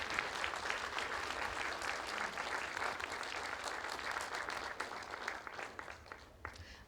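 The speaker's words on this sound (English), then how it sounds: "a round of applause for our fab team" A festival opening-ceremony crowd at a heritage centre gives a sustained round of applause for the team, a dense, fairly distant clatter of many hands that thins slightly toward the end.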